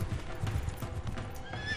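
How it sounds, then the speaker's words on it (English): Wild mustang horses on the open plains, hooves clip-clopping in a steady rhythm with neighs and whinnies rising over the hoofbeats, close and loud. "400 years later, over 1 million Mustangs run wild."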